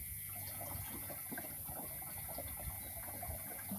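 Liquid urea fertilizer, home-fermented, poured into a mixture for spraying on a jasmine rice paddy, giving a steady watery pouring and splashing that runs throughout at low level with no talk.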